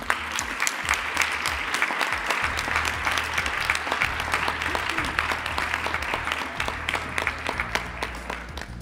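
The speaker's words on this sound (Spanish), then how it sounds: "Un aplauso para ellos." Sustained applause fills the room at the presentation of a Moros y Cristianos festival poster, the crowd clapping steadily for nearly nine seconds while a low background hum runs underneath.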